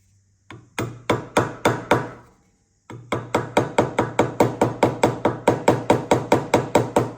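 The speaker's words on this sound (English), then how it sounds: "see if I can tidy it up a little bit with the hammer" A hammer strikes a dented car wheel on a Reeded G23LH V2 project in sharp, ringing metallic blows, a short burst of about six hits, a pause, then a long steady run of evenly spaced strikes, loud and close with no talk.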